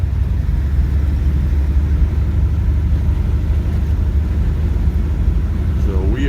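A 1957 Mercury Monterey two-door cruising along, a steady low engine and road rumble heard from inside the car with a faint voice speaking beneath it.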